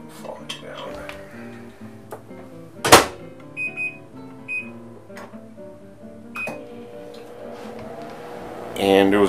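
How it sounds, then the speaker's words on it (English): A microwave oven running to dry a photo print in a darkroom, with a low steady hum, beeps and a door clunk, heard under a man's speech. "And I'm gonna microwave this"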